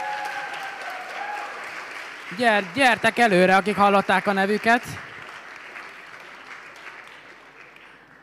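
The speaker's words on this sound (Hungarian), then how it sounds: "egy tapssal bátorítsuk és köszöntsük őket." A winter camp audience claps in sustained applause under a speaker's voice, then the clapping lingers and gradually fades on its own.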